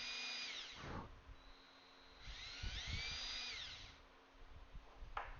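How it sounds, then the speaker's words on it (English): A power drill bores a 90-degree hole into a wooden gift stand workpiece: close, high whining bursts, one long run, a short pause, a second sustained run, then a brief final blip. "Drill to our mark."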